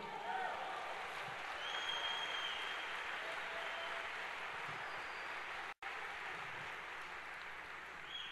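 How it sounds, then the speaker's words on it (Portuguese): Congregation at a church service breaks into sustained applause, a steady wash of clapping lasting several seconds at moderate distance, with a momentary break near the end before it resumes. "Aplausos ao Senhor."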